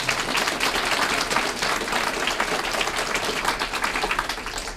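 Steady, dense applause from an audience at a school district state-of-the-schools event, many hands clapping continuously at an even level throughout.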